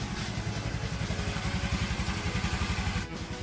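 A carbureted Honda Vario scooter engine running just after a kick start, a steady close putter with a fast even pulse at idle, with no voices.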